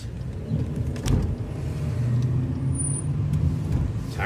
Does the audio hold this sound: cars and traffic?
yes